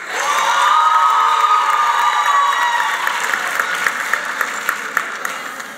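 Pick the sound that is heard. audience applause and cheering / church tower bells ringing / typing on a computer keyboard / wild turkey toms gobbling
audience applause and cheering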